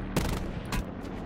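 Two sharp sniper-rifle cracks in the Firebreak video game, one near the start and one about half a second later, each a loud broadband burst over steady game ambience.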